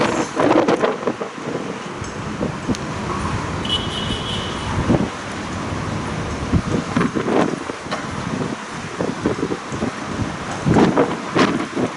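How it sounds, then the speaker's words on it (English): Wind blows across a hilltop near Taal Volcano in the Philippines, gusting and buffeting the microphone in uneven surges of rushing noise. "A little windy up here."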